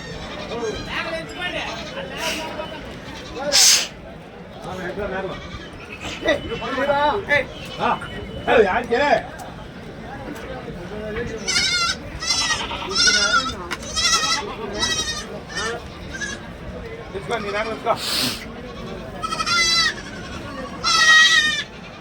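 Goats bleat repeatedly at a goat market, several loud calls near and farther off, mixed with people talking throughout.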